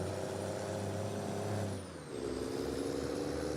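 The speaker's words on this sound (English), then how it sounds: "Man, I love Jake brakes." A truck's Jake brake rumbles loudly nearby as a steady, low engine drone with a brief dip partway through before the growl resumes.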